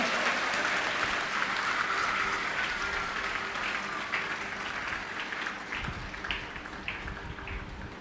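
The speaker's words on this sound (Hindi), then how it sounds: "ताली बजाएं, ऊंची आवाज में तारीफ करें सब।" A church congregation claps and cheers loudly in praise during a Hindi-language sermon, starting with a dense burst of clapping, then thinning into scattered, separate claps, with faint voices underneath.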